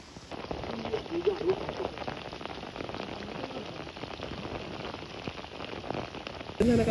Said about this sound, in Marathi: पाऊस काय थांबाचं नाव घेणं बघा.